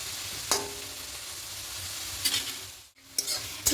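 Steady sizzle of boiled potatoes frying in a pan over high flame, with a few louder scraping stirs and a brief drop in the hiss near the end.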